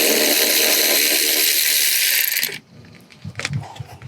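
A Milwaukee power tool spins a nut off a Honda Element rear suspension, a loud, sustained whirring buzz for about two seconds that cuts off abruptly, followed by a few clinks and rattles.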